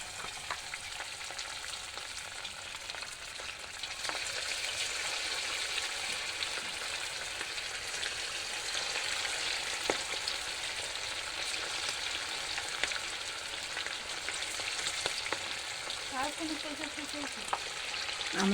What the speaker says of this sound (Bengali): আমি চিকেনগুলো এর মধ্যে একটা একটা করে দিয়ে দিই।